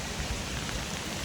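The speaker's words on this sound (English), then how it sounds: "It's raining." Rain falling on the island of Koh Tao in Thailand, a soft, steady hiss of drops heard faintly and briefly, with no voices.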